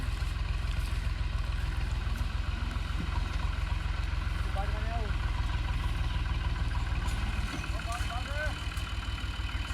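A tractor engine runs at a steady idle-like throb with a low, regular pulsing close by, continuous throughout, with a few faint voices or calls over it.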